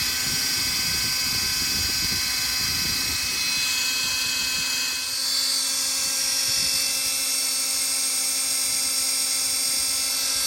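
Tron 7.0 and Tron Advance RC helicopters hovering nearby, a loud, steady high-pitched rotor and motor whine with a constant buzzing drone that shifts slightly in tone partway through.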